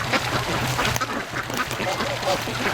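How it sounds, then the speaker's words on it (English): Several Muscovy ducks quack and call off to one side at a creek outdoors, their steady low calls repeating through the clip over constant background noise, with a voice faintly talking at times. "we got some little Muscovies off to the left here"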